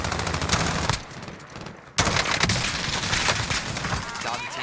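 Rapid gunfire in the Fortnite video game rattles in dense, continuous volleys, pausing for a moment before resuming loud and sustained, with a voice talking over it.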